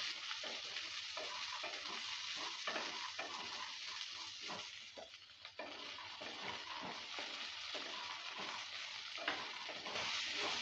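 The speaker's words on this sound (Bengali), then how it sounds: "মটরশুঁটিটা দেওয়ার পর ভালো করে আবারও নেড়ে চেড়ে দিচ্ছি" Peas, potatoes and tomato being stirred in a frying pan for an aloo matar paneer curry, a steady close sizzle with repeated scraping strokes of the spoon throughout, no talking.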